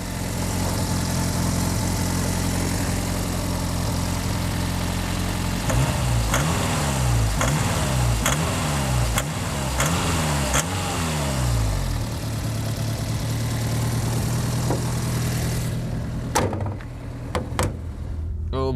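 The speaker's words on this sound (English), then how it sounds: "it runs now that it's slightly warmed up" Peugeot 205 GTI engine idling steadily after warming up, a close, loud mid-pitched run that briefly rises and falls with a few blips of revving before settling, with a sharp clatter near the end.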